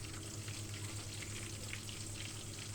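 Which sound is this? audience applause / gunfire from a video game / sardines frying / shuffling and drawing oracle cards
sardines frying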